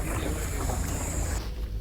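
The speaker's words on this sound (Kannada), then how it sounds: "ಡಾಂಗ್ ನದಿಯಲ್ಲಿ ದೋಣಿ ವಿಹಾರ" Boat ride on the Ngo Dong river near Ninh Binh, Vietnam, among limestone caves: a steady low rumble and rushing wash of water with wind noise, fairly loud and continuous before easing off at the end.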